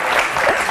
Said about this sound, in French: Brusquement, vous m'applaudissez.